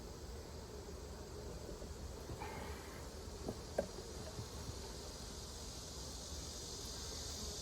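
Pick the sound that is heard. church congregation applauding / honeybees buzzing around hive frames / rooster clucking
honeybees buzzing around hive frames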